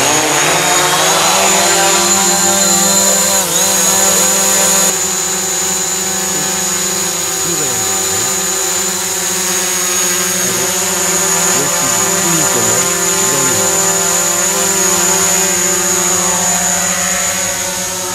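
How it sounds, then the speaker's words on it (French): A loud, steady engine drone fills the whole stretch as an aircraft takes off, with layered whine and rumble and slowly shifting tones. No voices are heard. "Et on décolle."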